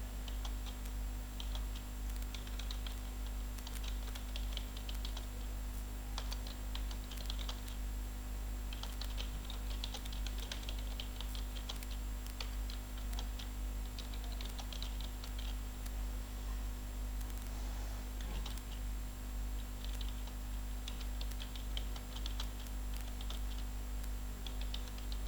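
Someone types a paragraph on a computer keyboard: a faint, steady run of soft key clicks over a constant low hum, with no voices.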